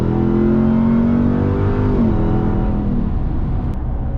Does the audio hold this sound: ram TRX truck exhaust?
yes